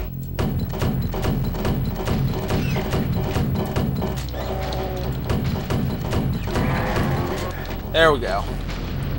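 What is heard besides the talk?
grenades fired and exploding in the video game NeoDoom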